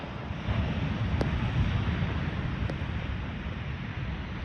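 Steady wind buffeting the microphone with a low rushing surf of waves at a sunny Cancun beach, continuous and fairly loud throughout, with no voices.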